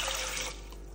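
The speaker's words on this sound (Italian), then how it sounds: "Mettiamo 200 g di lenticchie dentro un pentolino, copriamo le lenticchie con l'acqua" Water runs into a small pot of lentils in a kitchen, a close, steady rushing pour that thins out partway through into a softer flow.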